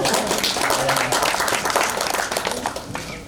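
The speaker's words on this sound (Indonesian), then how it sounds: "Tepuk tangan." Applause from a crowd gathered at a village disaster mitigation simulation in Indonesia, a dense burst of clapping that continues for a few seconds and tapers slightly toward the end, with voices mixed in.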